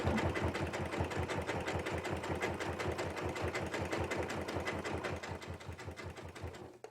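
A sewing machine sews forward along fabric tubes for a jelly roll rug, its needle pounding in a fast, even rhythm that runs steadily close up and eases off at the end.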